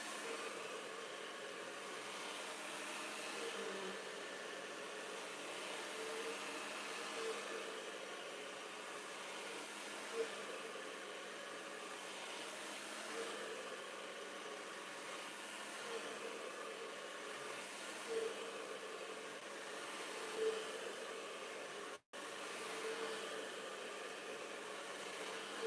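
A hair blow dryer runs continuously while drying hair during a straightening routine, a steady whooshing roar with slight swells in intensity and a momentary cutout near the end.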